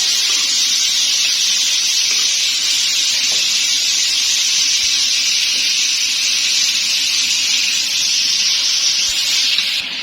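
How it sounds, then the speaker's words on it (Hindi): Chicken dropped into hot oil in a kadai, a steady loud hissing sizzle that holds evenly throughout with no talk, for a Mughlai chicken changezi dish. "ये हमारी कढ़ाई का ऑयल भी गर्म हो चुका है तो यहाँ पे मैं इसमें भी चिकन डालूंगी"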